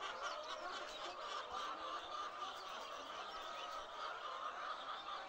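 Layer pullets at a poultry farm make a steady, dense wash of overlapping clucks and chatter. The flock sounds continuous and fairly close, with no single bird standing out.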